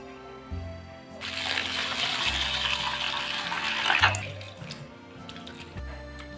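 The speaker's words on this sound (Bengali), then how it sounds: "চিড়েটাকে ভালোভাবে ধুয়ে নেবো" Flattened rice being rinsed in water: a steady splashing, running-water wash of moderate loudness lasting several seconds, with quieter handling sounds before and after and no talk.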